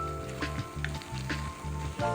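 Beef floss (dambun nama) is stirred in a pan as it fries, giving a soft, steady sizzle. Rhythmic scraping strokes come roughly every half second, close and fairly quiet, with no voices.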